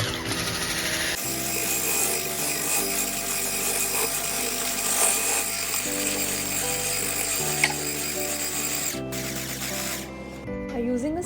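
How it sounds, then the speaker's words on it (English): An electric mixer beats butter and sugar for strawberry crinkle cookies, a continuous close motor whir that steps between several speeds with a grinding, mechanical edge. "Beat the butter and the sugar until they mix very well."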